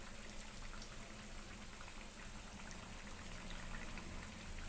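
Badusha sweets fry in hot oil with a steady, dense bubbling sizzle, close and continuous with no voices.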